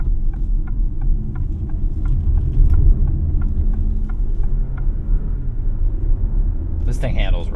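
Low steady hum and rumble of a 2024 Alfa Romeo Tonale Ti plug-in hybrid moving on electric power alone, with road and tyre noise throughout, faint whine, and a person talking over it.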